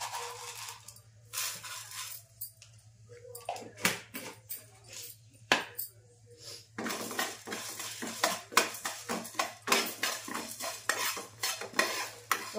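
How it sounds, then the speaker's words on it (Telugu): Coriander seeds being dry-roasted in a pan after fenugreek and cumin, with a utensil scraping and stirring them in quick, irregular strokes that give a rattly, scratchy sound, close and fairly quiet. "మెంతులు జీలకర్ర వేపినాక ధనియాలు వేపుతున్నాండి."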